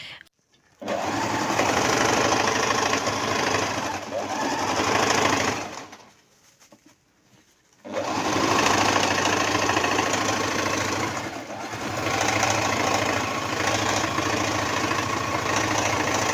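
Sewing machine stitching fabric for a khimar (headscarf), running in long steady bursts with a brief pause mid-way, close and loud with a continuous motor hum.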